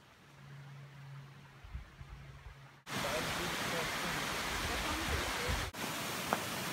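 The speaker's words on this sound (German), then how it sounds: "Das ist ein schöner Wasserfall." A waterfall on the Coast to Coast Walk in England roars as a loud, steady broadband rush, starting abruptly after a quieter outdoor stretch with faint rumbling and briefly cut once before resuming.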